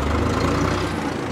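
A 1992 Case IH 495 farm utility tractor engine runs steadily in low range first gear, a loud, close, continuous low diesel rumble with no talking over it.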